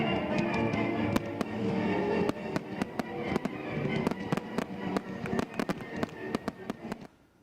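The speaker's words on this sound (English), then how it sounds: "we will leave you with a look at the beautiful fireworks that cap the night at Warner Robins' 40th Independence Day concert" Fireworks capping the night at Warner Robins' 40th Independence Day concert, with a rapid, irregular series of sharp cracks and pops over a rumbling background, growing sparser and quieter before fading out.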